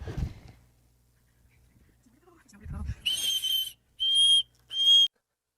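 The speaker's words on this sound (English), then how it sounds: "uses her whistle" After a couple of soft low thumps, a safety whistle sounds in three sharp blasts, the last two short and evenly spaced, close and loud.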